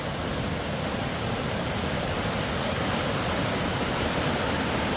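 A waterfall at Lower Diamond Falls in the Pacific Northwest pours off a mountainside, a steady, loud, full-bodied roar of rushing water that never lets up and carries no voices.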